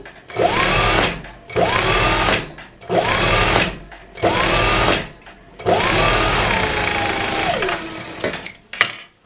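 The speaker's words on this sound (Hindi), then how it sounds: "अब मैं दूसरी सिलाई लगाऊंगी, बिल्कुल इसके साथ जोड़ के लगाऊंगी" A sewing machine runs in five bursts, each about a second or more, stitching a seam on salwar fabric. The motor whirs up and down between short pauses, and the final run lasts longer.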